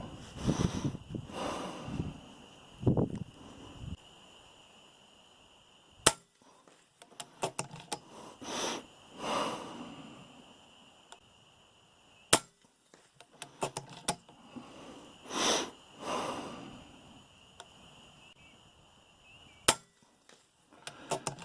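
Three sharp, quiet cracks from an FX Impact MKII .22 air rifle fired at a target at long range, spaced several seconds apart, with faint handling noises in between.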